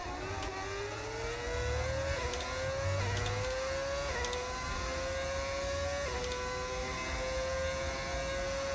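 High-revving racing car engine in the F1 25 game, a continuous whine climbing in pitch through repeated upshifts, each gear change dropping the tone before it rises again, steady and close.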